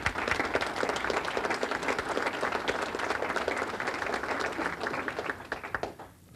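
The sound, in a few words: applause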